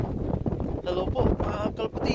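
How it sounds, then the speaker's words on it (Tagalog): Strong wind gusts buffet an outdoor microphone with continuous low rumble and rustle, while a voice talks intermittently over the blustery noise. "sobrang lakas ng hangin"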